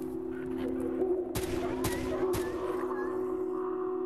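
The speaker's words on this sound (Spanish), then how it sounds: "Hay que tirar de revólver." Revolver gunshots in a video game set around a lost plane: three sharp, loud broadband shots spaced about half a second apart over a steady droning hum in the background.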